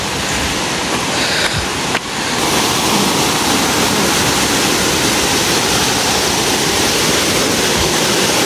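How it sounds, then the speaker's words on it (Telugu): Hebbe Falls in Chikmagalur, Karnataka, roars during the monsoon: a loud, steady, broadband rush of falling water that fills the whole scene without pause, with a faint bump early on. "వాటర్ వస్తున్నాయి వాటర్ ఫాల్ నుంచి. చూడండి ఎంత సౌండ్ వస్తుందో."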